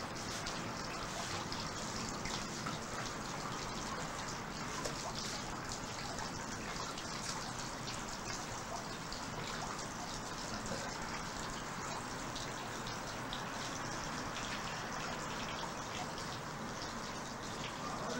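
Cold water runs steadily from a tap while hands are washed, a soft, continuous, even rush with no talking.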